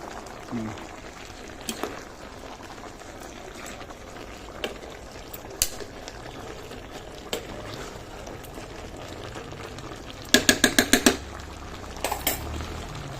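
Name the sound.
coconut milk broth boiling in a pot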